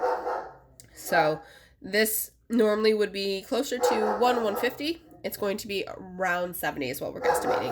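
A dog barks intermittently in the background of a home while a person talks steadily over it, the barks fairly close but partly masked by the speech.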